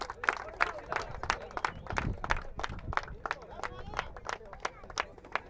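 Crowd at the KFCL cricket grand final applauding the top-ranked player as he holds his trophy, with steady, dense clapping close by and murmured crowd chatter underneath.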